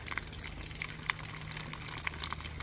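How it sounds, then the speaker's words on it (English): Water running from a hose while a Walker boiler is being fired, a steady soft hiss and gush with small splashing flecks over a low constant hum, fairly quiet and unbroken. "I'm running the hose a little faster this time."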